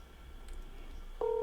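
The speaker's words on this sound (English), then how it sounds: "let's see if Steven answers his phone." A telephone being dialed for a call: a soft, near-silent lead-in, then a loud, steady dial keypad tone begins abruptly and holds to the end.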